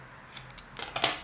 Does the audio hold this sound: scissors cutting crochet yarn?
yes